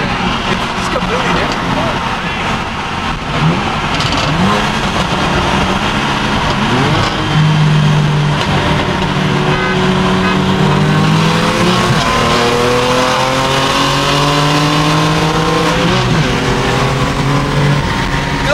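A BMW M3 sports car engine revs and accelerates through rising and falling gear pitches, loud and close, with people talking excitedly over it.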